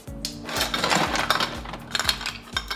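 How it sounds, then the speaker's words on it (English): Ice cubes clink and rattle against a glass as an amaretto cocktail gets a quick stir, several light knocks in a brief, close burst. "Then just pack it with ice. Quick little stir."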